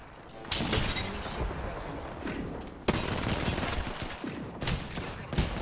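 Rapid automatic gunfire rings out in a video game shooter: loud, crackling bursts start sharply near the beginning, in the middle and toward the end, with no talk over them.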